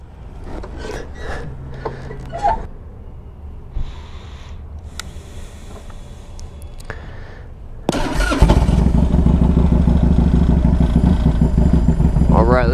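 A 2003 Harley-Davidson Electra Glide Ultra motorcycle is started and settles into a loud, close, rumbling idle, preceded by handling noises and a short stretch of talking.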